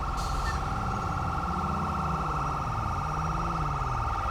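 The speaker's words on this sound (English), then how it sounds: "Please turn off your siren." A steady electronic police siren in a video game wails continuously over a low rumbling engine, loud and close, with no pauses.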